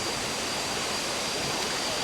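Near Chiang Mai, a waterfall pours in a constant, even rush of falling water heard from some distance, with no voices.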